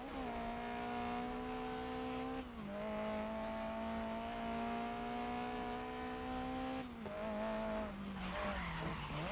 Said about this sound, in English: It's great to practice a power slide.